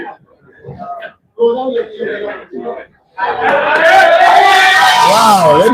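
Crowd at a pool money match in an arena in Gulu City breaks into loud, sustained cheering and clapping after a few seconds of scattered talk and chuckles, rising to a full roar with shouts.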